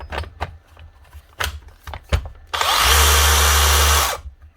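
A repaired handheld power drill gives a few knocks and clicks, then runs in one loud, steady whirring burst of about a second and a half before spinning down, with no talk.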